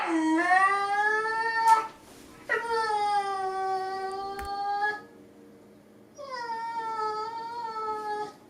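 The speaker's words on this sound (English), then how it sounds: "here is a quick concerto of my dog" A dog howls in three long, drawn-out, wavering cries separated by short pauses, close and clear.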